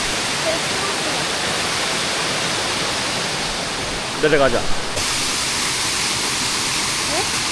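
Steady broadband rush of a mountain valley stream in Miryang, Korea, pouring over rocks, loud and continuous, with brief voices talking over it partway through.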